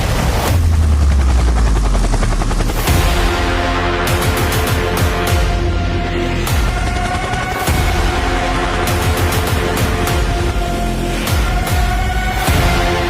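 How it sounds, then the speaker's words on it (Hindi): Rotor and turbine noise from a Chinese Z-10ME attack helicopter built by Changhe Aircraft Industries, loud and continuous throughout, with rhythmic blade chop and a dense roar, and no talking. "पाकिस्तान आर्मी के पास मौजूद एक ऐसा जादुई हेलीकॉप्टर जो अभी तक मंजर आम पर नहीं आया"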